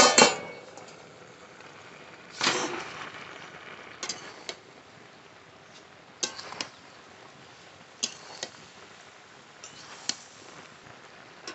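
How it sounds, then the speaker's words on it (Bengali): A lid lifted off a cooking pot and winter vegetables stirred for a mixed vegetable ghyat, heard as a loud clatter at the start, then scattered sharp metallic clinks and scrapes of a spoon against the pot every couple of seconds over a soft background hiss. "ঢাকনা তুলে সবজি নেড়ে দেব।"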